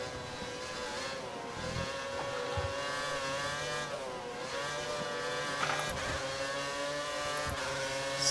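Formula 1 race car engines in the F1 2013 video game at the Belgian round, a continuous high-pitched whine rising and falling with gear changes, close and loud with other cars around.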